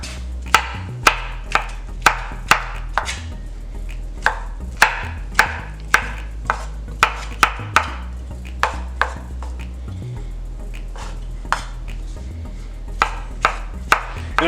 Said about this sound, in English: And I'm just doing a rough chop.